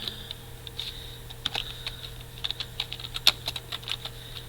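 A computer keyboard is typed on nearby in quick, uneven clicks and taps over a faint steady hum, with no voices.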